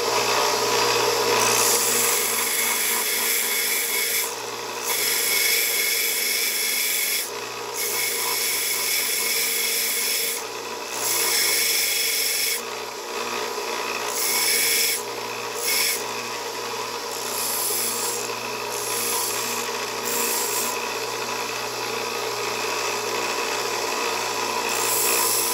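Rounding off the corners of a mini knife blade blank made from a hacksaw blade: steady, close rasping and grinding on metal that runs almost continuously, broken by a few brief pauses, with no talking.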